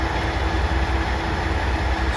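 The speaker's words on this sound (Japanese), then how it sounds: "オレンジタウン行きの1500系普通機動車です。" A JR Shikoku 1500 series diesel railcar on a local service bound for Orange Town, heard as a steady, loud low engine rumble with rolling rail noise and a thin high-pitched whine running throughout, no voices.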